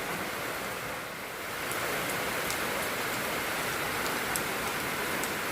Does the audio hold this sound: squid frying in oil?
no